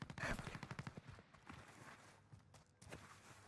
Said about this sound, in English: there are shots going off to the east